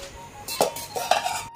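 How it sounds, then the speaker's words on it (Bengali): A home-delivered tiffin box is opened, with a few sharp metallic clinks and clatters of the container and lid, close by, amid a soft background hum. "চলো হোম ডেলিভারি প্যাকেজিং খুলি।"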